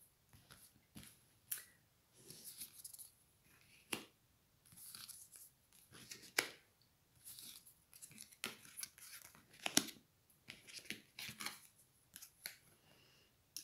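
Tarot-style cards are shuffled, slid and tapped down one after another in a quiet room, a series of soft, close papery flicks and snaps with short pauses between them.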